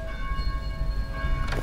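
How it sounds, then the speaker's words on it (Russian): Church bells ring in the Dead Island video game, with sustained metallic tones layered over a low rumbling background and a brighter strike near the end. "Заставить умолкнуть колокола."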